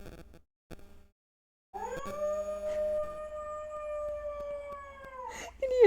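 A dog's long, wavering howl plays back from a video on a livestream, rising after a few soft knocks and holding steady for several seconds before tapering into a short higher whine.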